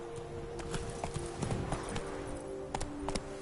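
Hooves of Roach, the horse in The Witcher 3: Blood and Wine, clip-clop in a quick galloping rhythm, close and steady under faint game ambience.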